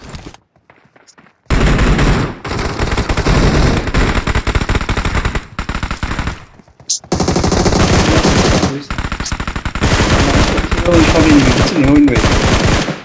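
Rapid automatic gunfire from a battle royale video game, long loud bursts of shots and fusillades separated by brief pauses, with a voice occasionally talking underneath.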